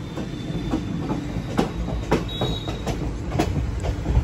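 Sleeper class coach on the Dehradun–Charlapalli 07078 train in motion, a loud steady rumble with regular clickety-clack wheel beats over rail joints and a faint squeal.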